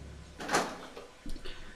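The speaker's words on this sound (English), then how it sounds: "And we'll go ahead and open this door." A door swinging open in the video game Resident Evil 2, a brief creaking swell followed by a second softer thud as it settles, fairly close and quiet over a low ambient hum.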